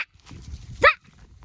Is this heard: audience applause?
no